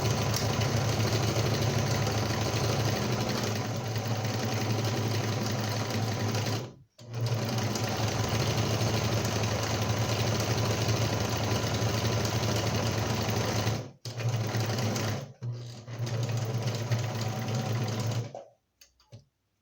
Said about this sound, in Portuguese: primeiro eu vou fazer um retrocesso e vou passar toda a costura.